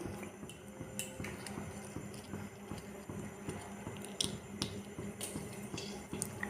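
Chili dropped into hot oil in a home kitchen pan for a vegetarian pumpkin curry, giving a steady close crackling sizzle with small pops and snaps throughout.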